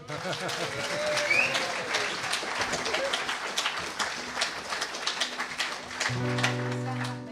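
An audience applauds a band at a live music event, a mix of clapping hands from a crowd with some talk and a brief bird-like coo, then a sustained tone toward the end.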